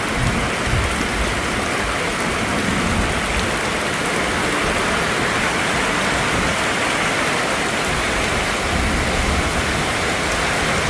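Heavy storm rain pours steadily as a dense, constant hiss, loud and close, with no voices.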